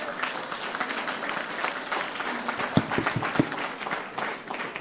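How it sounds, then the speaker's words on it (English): Applause from an audience at a memorial tribute, a steady patter of many hands clapping at moderate level, heard without speech throughout. "She deserves a bigger applause."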